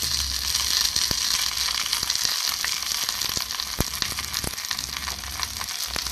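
Coconut oil and onion paste fry in a pan over a low to medium flame, making a steady, dense sizzle with crackles and a few sharp pops, close and loud, without talk.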